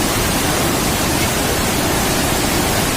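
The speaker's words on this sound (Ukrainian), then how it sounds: "Труфанецький водоспад самий високий водоспад Закарпаття" Trufanets waterfall, the tallest in Zakarpattia, running in full flow: a loud, steady broadband roar of rushing water fills the whole stretch without a break, close by and with no voices.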